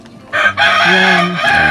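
A rooster crows loudly and close by, a single drawn-out cock-a-doodle-doo with a rising start and a long held middle, standing alone without talk.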